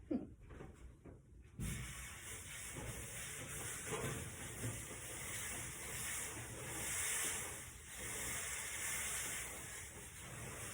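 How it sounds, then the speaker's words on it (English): A steady, loud sizzling hiss from inside a hot oven fills the clip after a brief clatter at the start, continuous and close with faint rustling underneath. "Enjoy sizzling sounds."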